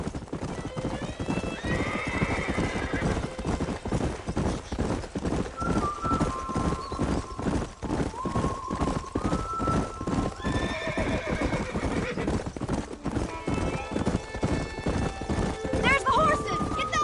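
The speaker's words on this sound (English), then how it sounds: "There's the horses." Steady hoofbeats clip-clop throughout while horses neigh and whinny several times in the video game Red Dead Redemption, with game-like clarity and some talk alongside.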